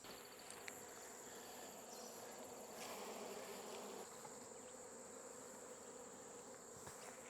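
Honeybees from a massive swarm zip past toward the hive outdoors, a steady, faint, continuous buzzing hum of many insects with occasional individual bees passing closer.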